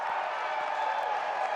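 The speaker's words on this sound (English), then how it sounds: "We'll just let that crowd swell for a minute." A home crowd at the Women's Elite Rugby Legacy Cup final, Denver Onyx against Bay Breakers, producing a continuous distant roar of cheering and applause with a commentator's voice faintly underneath.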